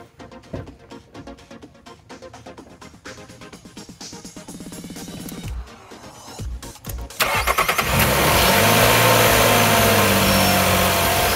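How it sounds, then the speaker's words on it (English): A car engine cranks several times, catches, and settles into a loud, steady idle that fills the rest of the clip. "Last thing we're gonna do is just fire up the car"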